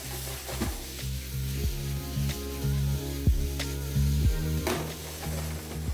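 Chicken being stirred into a spice mixture in a hot pan for chicken bharta, a steady sizzle broken by repeated scraping strokes of a spoon against the pan, close and fairly loud with no talk.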